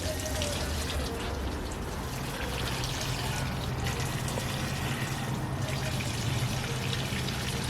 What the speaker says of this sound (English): Babe's still watering his tomatoes.